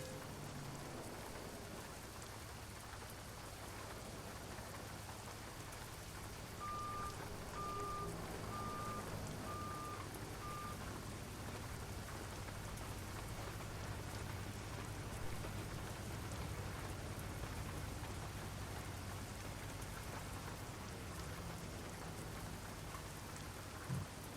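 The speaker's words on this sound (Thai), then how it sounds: "ถึงงานฝนตกพอดี" Steady rain falls in the truck-driving game American Truck Simulator, a continuous broadband wash with a low engine-like rumble underneath and a faint intermittent beeping; no talk over it.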